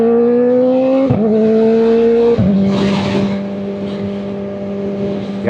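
A Kawasaki 4RR sport bike accelerates hard, its loud engine whine climbing through the revs with two quick drops at gear shifts, then holding steady as it pulls away.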